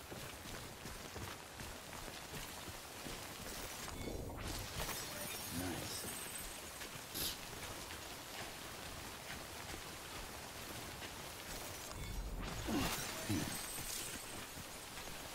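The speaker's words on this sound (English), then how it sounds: "Oh, now it's raining." Steady rain pouring throughout a stretch of the video game Death Stranding, a continuous hiss of falling water with a few brief louder bursts and faint talk underneath.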